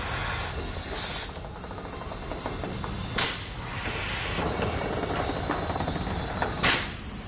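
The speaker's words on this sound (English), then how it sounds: "What we're going to do now is fill our airbags up to the amount specified in the instructions." Compressed air filling Firestone Coil-Rite air helper spring airbags on a 2020 Jeep, heard as a few short, sharp hissing bursts spaced seconds apart over a quieter background hiss.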